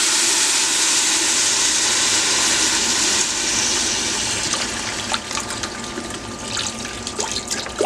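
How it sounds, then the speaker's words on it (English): Chicken broth poured into a cooking pot for turkey noodle soup, a steady liquid splash and gurgle that runs continuously, with a few sharper clinks and drips near the end, no talking. "Now we're going to go ahead and pour our broth in there."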